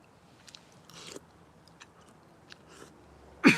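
Someone eats soup with ground beef and organic vegetables, with a few soft, close bites and chewing sounds separated by quiet gaps and a louder crunch near the end, no speech.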